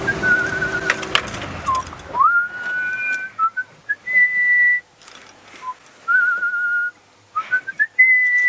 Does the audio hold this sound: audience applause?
no